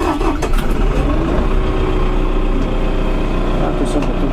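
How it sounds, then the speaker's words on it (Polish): A LOVOL M1104 tractor of over 100 hp, heard from the cab, cranks and catches into a loud, steady diesel rumble that settles almost at once into even running. "I uruchamiamy sobie maszynę."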